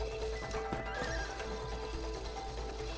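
Horse neighing and whinnying in the video game It Takes Two, with clip-clop hooves beneath, a steady and fairly close game sound effect with no talk over it.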